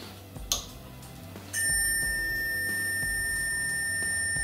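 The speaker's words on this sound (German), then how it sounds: "wenn man dann an die Wechselspannungseingänge von dem Gleichrichter geht, dann piepst der dauerhaft" Multimeter continuity tester checking the rectifier in a faulty Kenwood hi-fi amplifier: a brief click and chirp, then a loud, continuous high-pitched beep that holds steady for several seconds, with no talking.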